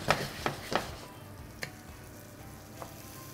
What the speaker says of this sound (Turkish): Tereyağının zemine dokunması ve erimesi için. Şu an zaten başladı erimeye.